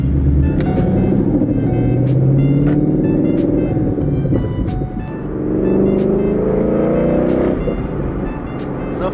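A car lowered on H&R Supersports static suspension cruises along, its engine droning and rising and falling in pitch through gear changes, steady and fairly loud from inside the cabin, with some clicks and rattles over the road.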